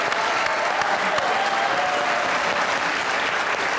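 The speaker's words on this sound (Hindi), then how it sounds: "तो अपने लिए एक बार जोरदार ताली बजाओ" A studio audience on a comedy show applauds loudly for themselves, a dense, sustained round of clapping at close range that holds steady for several seconds.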